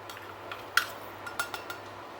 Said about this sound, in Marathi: तुपावर व्यवस्थित कणिक भाजून घ्यायची आहे